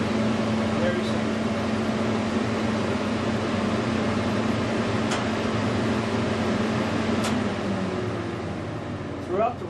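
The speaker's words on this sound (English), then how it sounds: "This is what it sounds like when you turn on the heat. And we cut on the heat." Heaters in a heat treatment room switch on and produce a steady, loud mechanical hum and blowing roar throughout, with a faint hint of voices underneath.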